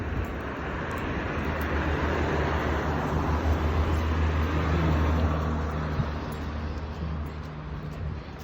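A car approaches along a road lined with pine trees, its broadband rush of tyres and engine swelling gradually to a peak about five seconds in, then easing away at moderate distance, with no talk.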